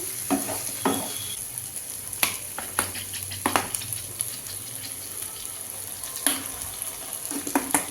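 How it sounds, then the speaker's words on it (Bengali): Vegetables lightly stir-fried in a pan for Hakka noodles, a continuous sizzling hiss broken by sharp scraping clicks of stirring, close and steady. "সেই রকমই ক্রাঞ্চি আমি বাড়িতে এটা রাখবো হালকা ফ্রাই করে নিচ্ছি"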